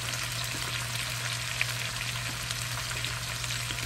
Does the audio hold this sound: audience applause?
no